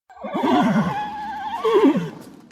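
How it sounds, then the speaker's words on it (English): A horse neighing in stables on a summer morning, two loud, close, quavering whinnies over about two seconds, with faint background rustle. "an enslaved Maryland teenager named Frederick is out in the stables feeding horses"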